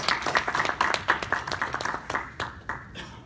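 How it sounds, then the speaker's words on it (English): An audience at a Ukraine–US business development forum in Washington claps for three presenters, a brief burst of many hands that thins out and fades over a few seconds. "a round of applause for all 3 of our presenters is appropriate"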